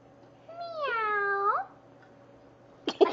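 A labradoodle dog trying to meow lets out one drawn-out, rising and falling whine-like meow lasting about a second, close and clear, followed by a short burst of rustling noise.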